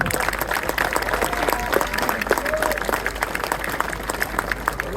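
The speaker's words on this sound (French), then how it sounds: "On peut l'applaudir." A car show crowd at a RiseNation French Chapter event claps continuously, a dense patter of hands at steady volume, with a few voices and whoops scattered through it.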